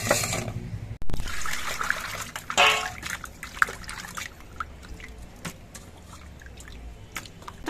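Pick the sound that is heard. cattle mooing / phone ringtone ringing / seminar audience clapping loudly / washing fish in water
washing fish in water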